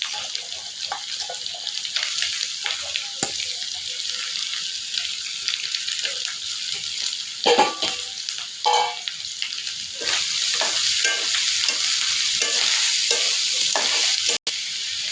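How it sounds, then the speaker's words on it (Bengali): Prawns fry with green chili and onion in a pan, a steady bright sizzle running throughout with stirring scrapes and a brief louder burst midway, no talking. "এখন আমি চিংড়ি মাছের ভিতরে কাঁচামরিচ আর পেঁয়াজ"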